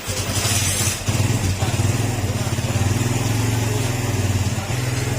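A Kawasaki Barako 175 motorcycle engine idles while warming up after an engine refresh, a loud, close, rapid putter with a brief dip in revs early on before settling into a steady beat.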